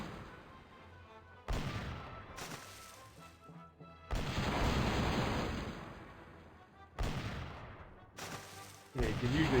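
Pirate ship cannons boom in The Curse of Monkey Island video game, several loud blasts in a row, each followed by a rumbling, crashing decay, with no speech over them.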